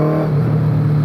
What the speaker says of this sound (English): in Indy with a bike engine